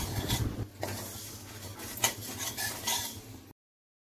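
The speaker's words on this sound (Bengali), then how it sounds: "কাঁচকলা ভেজে নিচ্ছি এবার।" Green plantain fries in a pan while a utensil stirs and scrapes against the metal, with clinking strokes and a soft sizzle underneath, ending in abrupt silence.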